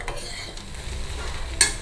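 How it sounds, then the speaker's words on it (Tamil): Pepper kuzhambu, a South Indian peppery tamarind gravy, bubbles in a pot while a spoon stirs it, giving a steady close simmering hiss with a brief scrape of metal near the end. "மிளகு குழம்பு நல்லா கொதிக்க ஆரம்பிச்சிருச்சு."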